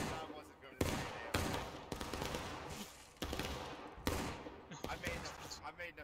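Battle gunfire in the War of Rights video game: a series of sharp musket-like cracks, spaced unevenly about a second apart, moderately loud, with voices talking over and between the shots.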